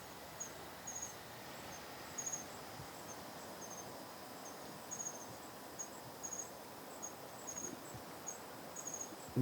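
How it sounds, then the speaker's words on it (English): Crickets or similar insects chirp steadily at night on a remote tropical island, a thin high trill repeating in short pulses over a constant background hum, fairly distant and soft with no voices. "Like crickets or locusts or"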